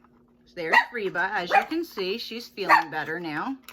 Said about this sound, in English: So excuse the barking.